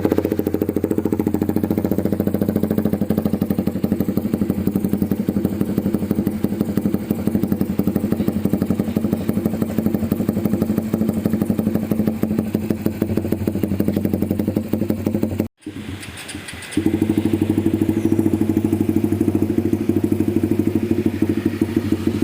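A motorcycle idles steadily through an original Spec Racing (SR) aftermarket exhaust, a close, continuous low rumble that cuts out for about a second near the end before the idle resumes.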